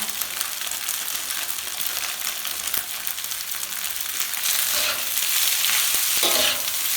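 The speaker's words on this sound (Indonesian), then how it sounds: "Diaduk-aduk lagi supaya tercampur rata bumbunya." Sausage fried rice with instant fried-rice seasoning and wilted vegetables is stirred in a hot pan. A steady sizzle runs under scraping and tossing sounds, growing louder and busier near the end, with no talking.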